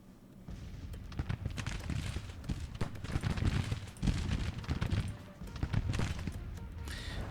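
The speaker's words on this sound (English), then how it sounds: "So they have dismounted and are like an inch from our troops. And they're firing at us," Dense rattling volleys of musket fire from dismounted cavalry troops at close range in the Civil War strategy game Grand Tactician, irregular cracks piling into a continuous fusillade, fairly quiet and with no talk over it.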